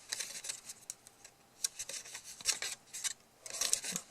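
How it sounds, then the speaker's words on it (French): Scissors cut through pizza-box cardboard, a run of short rasping, crunchy snips in uneven rhythm, close up and fairly quiet with no talk. "Donc je prends les ciseaux et je coupe"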